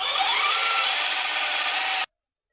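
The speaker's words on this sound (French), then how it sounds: "Vous pouvez prépercer avec une petite mèche à bois afin de faire un travail propre." A small wood drill bit pre-drills into wood with a steady, close grinding whine, then cuts off abruptly into silence.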